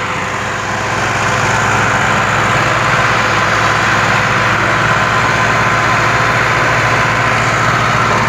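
Massey Ferguson 260 tractor pulling a loaded sugarcane trolley, running with a fault that makes it labour: a loud, close, steady diesel chug with a fast low thrum that holds unbroken throughout.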